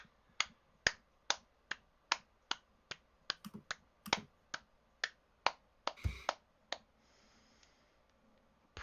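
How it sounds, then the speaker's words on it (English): A slow, steady clapping sound effect during a Dungeons and Dragons session: about twenty sharp, isolated claps in an even rhythm, crisp and close, fading out near the end, with no talk. "you just hear clapping in the back"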